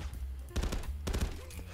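Bursts of M4 rifle fire in Call of Duty Zombies played in VR, two rapid automatic volleys close and loud with a short gap between them, no talking over the shots.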